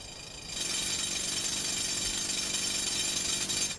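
A drill bores through hard rock on a jade hunt in China, a steady, loud grinding roar that starts abruptly and holds evenly for several seconds before cutting off.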